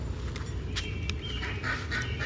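Several ducks quack in short, nasal bursts over a steady background of running water, close by.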